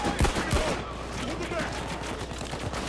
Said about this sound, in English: I accidentally shot him.